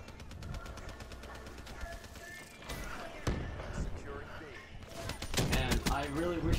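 Gunfire in Black Ops 3 multiplayer domination on the Nuketown map, with rapid bursts of shots firing throughout, loud and close, followed by heavier blasts and impacts near the end.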